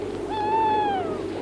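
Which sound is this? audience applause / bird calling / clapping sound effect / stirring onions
bird calling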